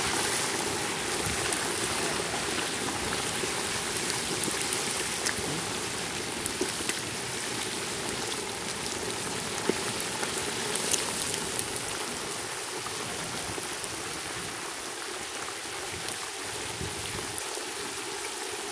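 Cold turkey bubbling in hot frying grease at 375 degrees for a Cajun fried turkey, a steady, dense crackling hiss that runs unbroken and fairly loud throughout, with no voices.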